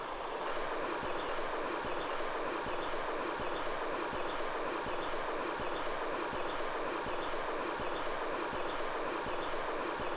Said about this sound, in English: two little streams merge right here.